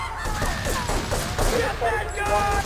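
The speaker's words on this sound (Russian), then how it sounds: "Везде сзади кто-то стреляет." Gunfire in Grand Theft Auto III, dense overlapping shots crackling behind a noisy game mix, fairly loud and continuous with voices talking over it.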